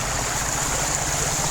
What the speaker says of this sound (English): Look at that beautiful small stream.